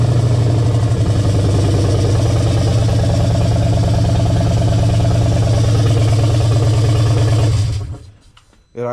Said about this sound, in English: It idles a lot lower than it used to